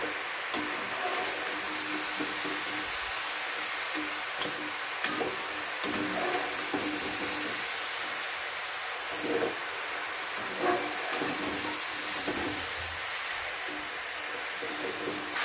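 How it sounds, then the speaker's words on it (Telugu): Amla, Indian gooseberries, frying in oil in a pan on a medium flame for pickle, giving a steady close sizzle and crackle with faint stirring, and no talking. "మీడియం ఫ్లేమ్లో పెట్టుకొని వేపుకోండి"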